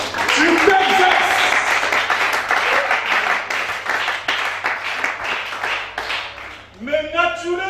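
A church congregation at a weekday service in Libreville applauds steadily for several seconds in a dense wash of clapping, with a voice speaking over it and a brief lull near the end before the noise picks up again.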